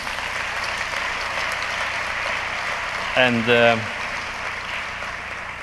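A conference closing-session audience claps for event co-organizers, a sustained wash of applause under which someone briefly speaks a word or two partway through before the clapping continues and eases off.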